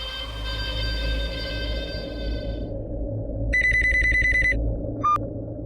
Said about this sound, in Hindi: मुझे गौरी को फोन करना चाहिए।